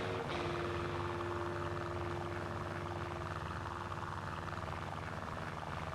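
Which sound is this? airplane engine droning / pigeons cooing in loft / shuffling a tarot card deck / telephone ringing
airplane engine droning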